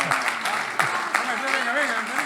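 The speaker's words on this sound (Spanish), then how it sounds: "un aplauso para todos los que están acá" An audience applauds at a maize-focused session in the Corteva hall, a steady wash of clapping beneath a loud voice shouting over it throughout.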